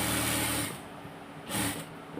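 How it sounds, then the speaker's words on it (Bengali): A sewing machine stitches the neckline of a kameez, giving a steady motor whir with a hissing rattle that eases off midway and then surges briefly again, close by and alone. "গলাটা আমি এই যে এখানে এখন গাইটে দিয়ে দিচ্ছি, মেশিনে শিলে দিয়ে দিচ্ছি"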